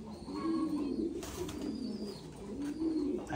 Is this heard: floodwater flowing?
no